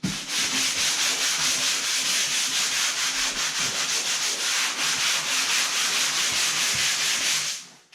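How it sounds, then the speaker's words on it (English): The bottom of an eight-foot foam pond dinghy is scratched up with a steady, dense abrasive rasp, loud and close, continuing without pause until it stops abruptly at the end. "What I'm doing is I'm scratching the bottom up now."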